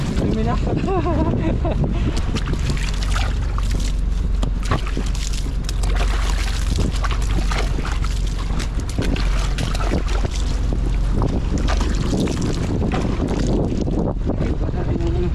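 A fishing boat's engine drones steadily with wind buffeting the microphone and water splashing, while people talk intermittently in Filipino over the noise.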